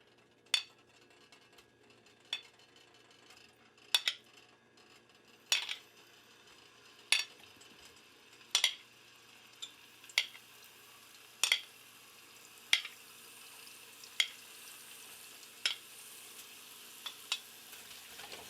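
Meatballs cooking in an oiled pan: a faint background sizzle punctuated by a series of sharp metallic clinks and scrapes from a utensil, recurring every second or so.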